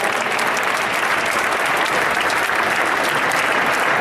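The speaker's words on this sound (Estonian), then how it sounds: "Aplaus meistri teisele kohale." Steady applause from an audience fills the whole stretch, dense and sustained, honoring the second-place team at a FIRST LEGO League championship awards announcement.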